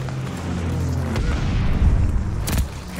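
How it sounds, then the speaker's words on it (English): Heavy, rumbling explosions roll in from a bombing run in Call of Duty Vanguard, a sustained low boom with a sharper blast near the end, and gunfire and game sounds around it. "Allies called a bombing run. Incoming."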